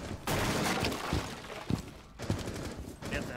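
Gunfire and shattering glass from the tactical shooter Rainbow Six Siege, with a burst of shots at the start and sharp thumps and cracks later, loud and close in a busy indoor fight.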